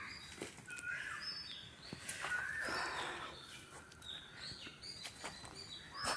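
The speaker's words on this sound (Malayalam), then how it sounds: "കിളികളുടെയൊക്കെ നല്ല ശബ്ദമുണ്ട്." Birds call and chirp outdoors in a home garden, with scattered short tweets that come and go at moderate distance over a steady, hissy background. No one speaks.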